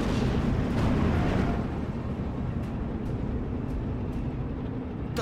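Artillery fire in the WWII strategy game Steel Division 2: a loud, heavy rumbling blast that swells in the first seconds and then rolls on as sustained low roar, with faint distant thumps trailing afterward.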